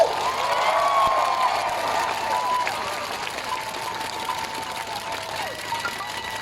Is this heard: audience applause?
yes